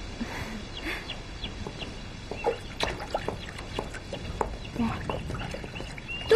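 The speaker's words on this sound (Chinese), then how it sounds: "妈妈，你看这小鸭多好玩啊！" A duckling gives several short, high peeping calls scattered over a few seconds, close by, with some faint background noise and occasional soft thumps.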